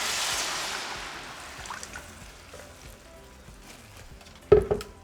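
Chilaquiles sauce is poured into hot oil with a piece of onion, starting with a loud sizzling hiss that fades to soft bubbling, followed by a brief clatter near the end.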